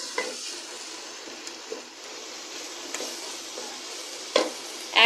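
Tomatoes and green chili paste frying for mutton dum biryani, giving a continuous hiss of sizzling with occasional scrapes and clinks of a spatula stirring the pan, close and moderate in level, no speech.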